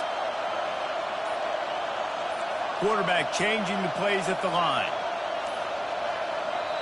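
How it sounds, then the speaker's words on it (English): A football stadium crowd roars as a steady, dense wall of noise while the home defense lines up, with a commentator talking over it throughout. "Listen to this crowd just shaking the girders of this place, trying to help their defense."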